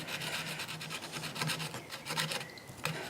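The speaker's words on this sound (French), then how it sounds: "les attaquer d'abord avec une scie fine plutôt que ce soit directement au cutter" A fine hobby saw cuts through a resin casting sprue with quick, rhythmic back-and-forth rasping strokes, dry and scratchy, close up and fairly quiet with no talking.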